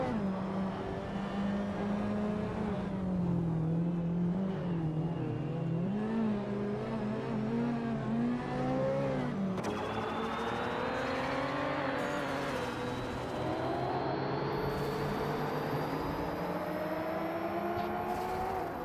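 Race car engines whine and rev in a racing video game, several cars droning at rising and falling pitch as they overtake, steady and moderately loud throughout.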